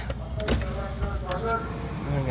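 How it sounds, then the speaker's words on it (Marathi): Car power windows whir down with a steady electric motor hum inside a hot parked car, close by, with people talking over it. "काचा खाली घ्या ना सगळ्या"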